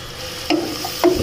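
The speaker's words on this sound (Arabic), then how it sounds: "نشحرها واحد شوي" Cubed red squash frying in a pan while being stirred, a soft continuous sizzle with two brief stirring scrapes, close and alone.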